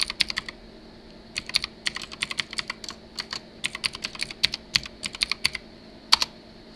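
Fingers type on a computer keyboard in quick bursts of crisp, close clicks, separated by short pauses in a quiet room.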